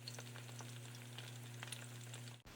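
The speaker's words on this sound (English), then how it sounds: "I'm gonna let them fry untouched on one side for about 10 minutes" Turkey pieces deep frying in oil, left untouched, give a steady crackling bubble over a low constant hum, with scattered pops that break off abruptly near the end.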